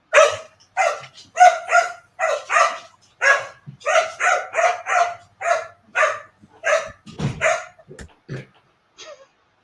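A dog barking repeatedly in quick, loud bursts, close by, with a few yips and whimpers between the barks and no speech.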